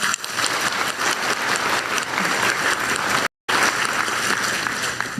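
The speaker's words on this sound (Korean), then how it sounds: "먼저 과감한 투자를 결정해 주신 세 분께 다시 한번 격려와 희망 박수를 부탁드리겠습니다." Loud, sustained applause from an audience at a government investment event honouring three investors, a dense crowd of clapping with a momentary cut partway through before it resumes.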